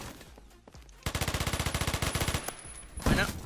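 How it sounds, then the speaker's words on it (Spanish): Rapid burst of suppressed automatic fire from an SR-3M rifle in the online shooter Phantom Forces, about fifteen evenly spaced loud shots lasting roughly a second and a half, followed by a heavier blast at the end. "Qué buen disparo."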